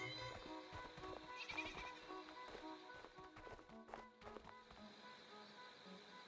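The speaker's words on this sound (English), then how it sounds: "We spied a few worthless sheep lazing around in the meadow." Sheep bleat faintly in a meadow in Superbrothers: Sword & Sworcery, amid soft pixel-game ambience and scattered chiming tones, all fairly quiet.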